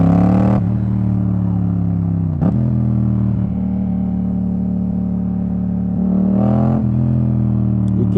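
A motorcycle engine runs close by with a steady, loud rumble, and brief revs break the drone at a few points.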